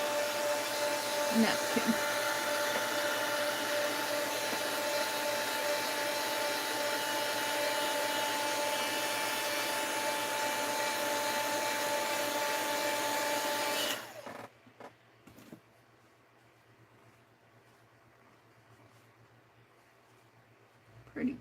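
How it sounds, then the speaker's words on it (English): Heat gun blowing over a mixed-media art piece, a loud, steady whine and rush that runs continuously and then cuts off, leaving a quiet room with a brief spoken word. "Now I'm going to hit that with the heat gun"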